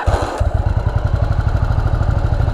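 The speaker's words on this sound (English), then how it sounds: "It's admittedly kind of still got a little bit of a rough idle" A Yamaha Virago 750 motorcycle engine idles roughly up close, a loud, uneven low throb with a lumpy, pulsing beat after a brief rev at the start.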